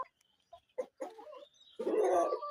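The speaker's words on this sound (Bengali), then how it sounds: "লাইট বাহামার অ্যাডাল মোরগ" Light Brahma adult rooster giving a few short, close clucks and throaty calls, ending in a louder, sustained vocalization.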